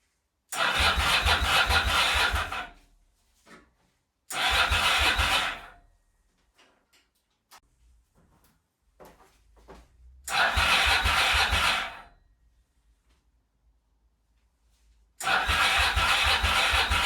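An abandoned Ducati motorcycle engine cranked over and over: four long starter bursts of about two seconds each, separated by quiet gaps, close and loud, with no catch or idle.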